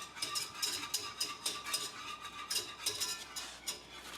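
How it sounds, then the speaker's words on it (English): Steady close stirring of Bearnaise sauce in a pan, a soft rhythmic scraping swish repeating about twice a second, fairly quiet and uninterrupted by voices. "And so start stirring it."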